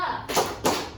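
Two quick group claps from a classroom clapping game, close and distinct, with a faint voice underneath.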